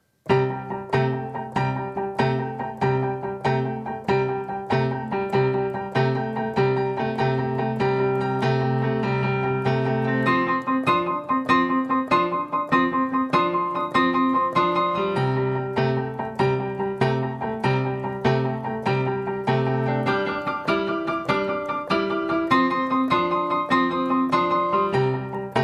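A simple blues progression on solo piano, steady repeated chords with bass notes in a relaxed, even rhythm, played alone and clearly for the whole stretch.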